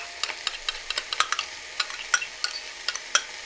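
Burger sauce with mayonnaise sizzling and being stirred in a hot pan, a run of sharp crackling pops and scraping stir strokes, close up and steady with no talk.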